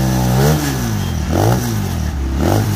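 A Harley motorcycle with dual exhausts revs loudly up close, three rhythmic throttle blips rising and falling over a steady deep idle, with no talk.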